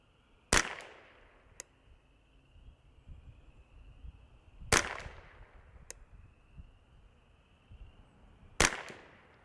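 Ruger 10/22 rifle firing .22LR rounds at a paper target on a range, three sharp, loud cracks spaced several seconds apart, each followed by a faint distant echo, with quiet background between.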